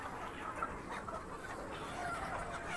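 Chickens and roosters cluck in a crowded poultry shed where the flock is affected by a viral disease, a continuous low murmur of clucking heard faintly and somewhat far off.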